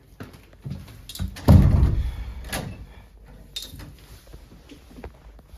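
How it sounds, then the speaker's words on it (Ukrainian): A door is pulled shut in a home, giving a single solid thunk with a brief rattle about a third of the way in, followed by quieter handling noises and faint room sounds. "Так, мушу сама закривати двері за собою."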